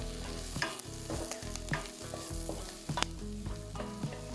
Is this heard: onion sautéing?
yes